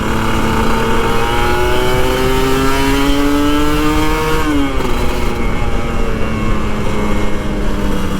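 A Kawasaki Ninja RR 150, an older stock two-stroke sport motorcycle, revs loud and close, its engine note climbing steadily, then dropping sharply and settling into a sustained high buzzing drone.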